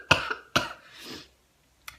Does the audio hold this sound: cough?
yes